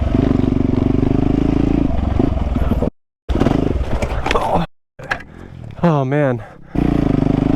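A dirt bike engine held in first gear on a dirt track, loud and close with a steady low drone that cuts out twice, then revs in rising and falling sweeps; someone speaks briefly over it.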